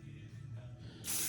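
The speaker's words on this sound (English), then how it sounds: "We're going to spray this, what I call the leg, first." An aerosol spray can hisses in a short, loud burst at the very end of a quiet stretch while a piece is spray painted in a workshop.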